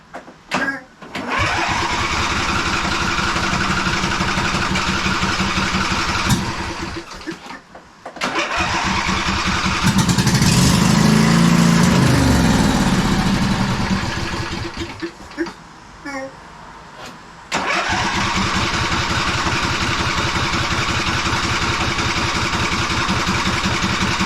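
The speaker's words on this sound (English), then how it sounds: "Sounds like a pretty big engine, you know, so I think 2 cylinders were running there" The two-cylinder engine of a 2005 Husqvarna YTH2448 riding lawn mower sputters and runs loudly nearby, cutting out and restarting several times, with a brief surge and quiet gaps between bursts.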